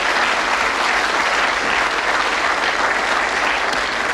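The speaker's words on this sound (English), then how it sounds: "Give him a nice round of applause." A television game show studio audience, on the British darts quiz Bullseye, breaks into loud, sustained applause, a dense wash of clapping that stays constant throughout.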